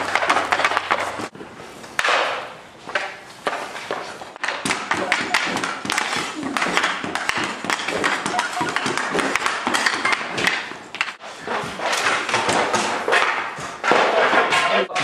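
Sharp clacks and thuds repeat in quick irregular bursts as a hockey puck strikes and rebounds off a rebounder during hockey training, close and loud, with brief pauses between runs.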